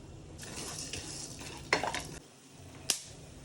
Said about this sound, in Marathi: पाऊण वाटी जेवढे मी हे मगजबी घेतले आहेत ते सुद्धा तळून घेऊ